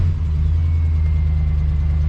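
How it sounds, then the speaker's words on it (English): A truck engine with an exhaust leak runs close by, giving a steady, deep low rumble that holds even throughout, with no voices. "if it starts ticking really bad, hopefully it's just an exhaust leak"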